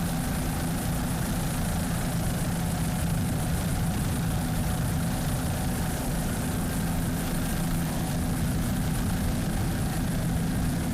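Racing powerboat engines from the Deep V and Bodyguard catamarans at a Miami super boat grand prix, a steady broad roar with a low droning hum that holds at an even level throughout, no voices.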